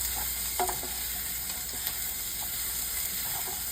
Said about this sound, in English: I'm going to be using the Pampered Chef mixing choke just to stir these up in the pan